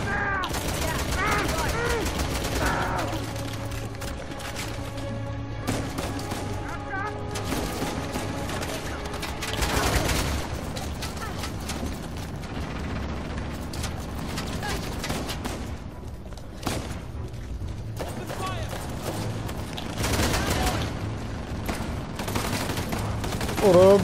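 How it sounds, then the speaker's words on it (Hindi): Gunfire from Uncharted: The Lost Legacy crackles in dense, rapid bursts of overlapping shots and booms, loud and close, running throughout over in-game music, with someone talking over it. "टनाटन गोलियां पड़ रही, टनाटन गोलियां"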